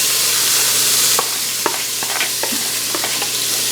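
Onions sizzle steadily in the hot pot of an Instant Pot, with a few sharp clicks and scrapes of a flat-topped utensil stirring them, close and fairly loud with no talking.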